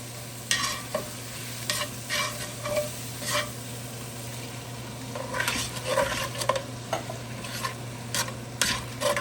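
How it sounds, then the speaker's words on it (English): Tomatoes going into a chicken casserole pan on the stove, with a steady soft sizzle and several intermittent scraping stirs of a utensil against the pan, heard close with no talking. "So I'm gonna add my tomatoes."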